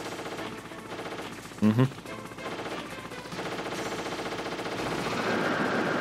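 Gunfire from a Hind D helicopter in the Metal Gear Solid video game, a short loud burst of a couple of rapid shots amid steady game background noise, with a brief murmur from a player.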